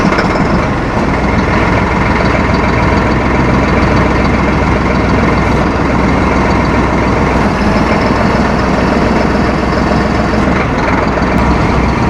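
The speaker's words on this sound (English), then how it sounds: "We're going to show you some of this action of this tractor, of this cutter, raising and folding the wings" A tractor runs loud and steady at close range, its engine droning without a break while a RhinoAG EPIC 4150 heavy duty flex-wing rotary cutter raises and folds its wings on hydraulics.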